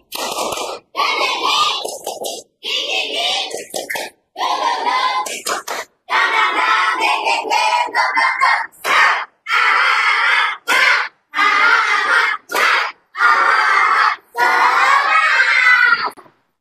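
Classroom of students performing the tepuk semangat clapping chant, rhythmic bursts of group clapping and chanted voices in short patterned phrases separated by brief silences, loud and close.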